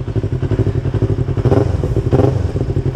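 Motorcycle fitted with a Tiger exhaust idling loudly and close, with throaty pulsing and two short throttle blips that swell into revs before settling back.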